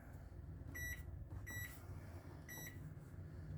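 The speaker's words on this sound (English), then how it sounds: "the only thing I can really tell you about the microwave is it does have a clock button on it" Microwave oven in a 2016 Forest River Surveyor 291BHSS bunkhouse RV beeps three times as its clock is set, short bright electronic tones spaced about a second apart over a steady low hum of the room.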